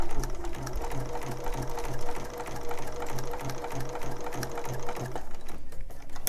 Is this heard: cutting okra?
no